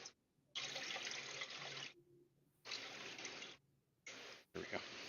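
Water runs from a tap in bursts during an aquarium water change, with strong splashing flow starting and stopping several times, separated by quiet gaps.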